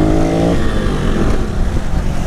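Honda Pop 110 motorcycle engine revving loudly and steadily up close, a rising pitched whine settling into a rough, continuous engine roar with no talk.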